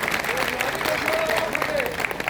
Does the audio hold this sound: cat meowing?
no